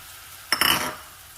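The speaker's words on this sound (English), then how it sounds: "saute and fry it for a little bit in this bacon grease" Cooked rice hits hot bacon grease in a pan for omurice, giving a sudden close sizzle with a few quick stirring scrapes that fades within half a second against quiet background.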